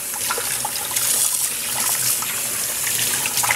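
Steady running tap water pours over fabric as dried glue is rinsed out, a loud continuous splashing gush that lasts throughout without any talking.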